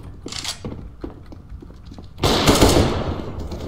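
AK rifle fire in the game CS:GO, with scattered mechanical clicks and shots followed by a loud, sustained burst of rapid automatic gunfire over the last second and a half.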